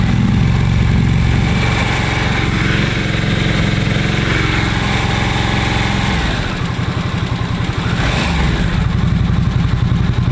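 A Harley-Davidson Nightster RH975 fitted with a new road-legal JMCA and Euro-compliant aftermarket muffler runs in neutral, a loud close rumble that rises as the throttle is opened in revs, then settles back to a steady idle.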